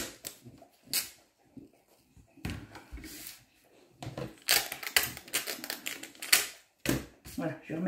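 Sticky tape being pulled off a roll and pressed down while making a recipe folio, heard as several sharp ripping bursts, some with brief rustles and taps between them, fairly close and loud with quiet gaps.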